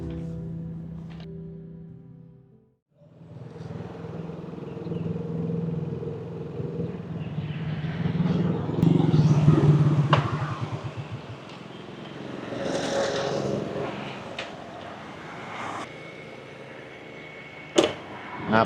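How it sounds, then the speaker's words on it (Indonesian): A motorcycle engine rumbling as it is ridden, rising and falling in a mid-distance drone after a brief gap, with a voice talking over part of it. "Motor Ariel tiba-tiba mogok saat ia kendarai."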